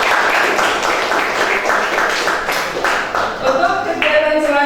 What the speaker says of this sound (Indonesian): mari kita kasih aplaus bersama-sama